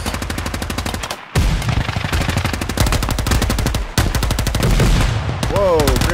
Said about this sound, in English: Whoa, grenades everywhere.